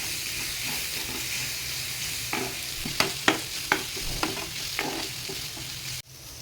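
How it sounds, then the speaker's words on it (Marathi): Cooked food for a vegetarian thali is stirred in an opened pressure cooker: a series of sharp spoon scrapes and clinks against the metal pot over a faint steady hiss, ending with a soft thump. "परत एकदा हे मिक्स करून घ्यायचं आहे।"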